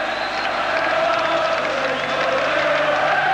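Large football crowd at a 1986 Rangers versus Celtic match, a broad continuous roar of massed voices with sustained chanting and singing tones, steady and loud throughout.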